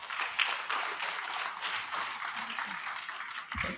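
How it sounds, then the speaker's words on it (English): An audience at a children's commencement ceremony applauds the graduating class. The clapping is steady and moderately loud, with a dense patter that carries through the whole stretch and dips briefly near the end. "Please give another round of applause to the whole Tankara class, Veers and Varanganas"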